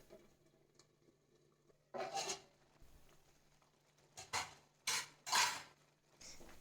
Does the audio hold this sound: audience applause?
no